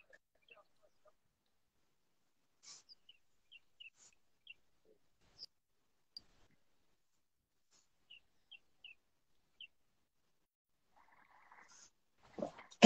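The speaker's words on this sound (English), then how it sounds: "I love that I can hear the birds chirping in the background." Scattered bird chirps outdoors during an oolong tea harvest in Taiwan, short high calls spread sparsely across a quiet background, faint and distant, with a brief burst of other noise at the end.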